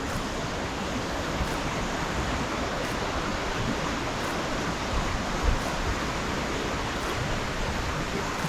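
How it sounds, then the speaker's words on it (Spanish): A fairly full river rushes steadily past a camp near Podocarpus park in Ecuador's Amazon region, a continuous broadband roar of moving water with no voices. "hoy despertamos con este río no tan caudaloso"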